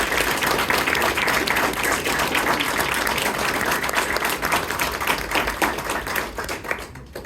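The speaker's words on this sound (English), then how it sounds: "well, one more round of applause." Audience applause at a research symposium held at a community college, a dense steady clapping that fills the whole stretch at an even level before thinning slightly at the end.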